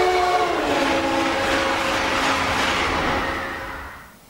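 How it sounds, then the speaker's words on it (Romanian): A loud train passes close by, its horn sliding down in pitch as it goes, the rumble fading away at the end. "Să mai auzim o dată efectul în cazul trenului."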